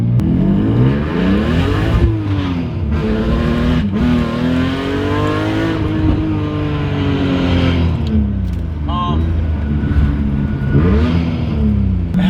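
S54 BMW E46 drift car pulling away on its first drive out of the shop, the inline-six revving up through rising and falling sweeps, loud and close, with squeaky brakes and no talk.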